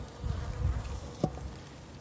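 Honeybees buzz at the hive during a winter visit, a close, steady hum with one brief sharper sound partway through.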